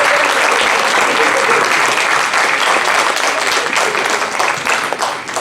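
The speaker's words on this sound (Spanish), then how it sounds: "quisiera cerrar este evento pidiendo un aplauso para este equipo" Applause from the audience at a district mathematics education conference, given for the organizing team. It is a dense, steady wash of many hands clapping that stays loud for the whole stretch and fades a little near the end.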